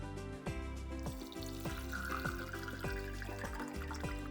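White vinegar pours into a glass jar holding an egg, a continuous close liquid stream with gurgling, bubbling pulses that stay steady throughout.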